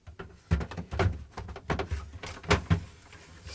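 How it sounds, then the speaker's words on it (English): Samsung refrigerator crisper drawer cover being slid into place: a series of short plastic knocks, scrapes and clunks, close and fairly loud, with the clearest hits in the middle and toward the end. "Now the crisper drawer cover goes in."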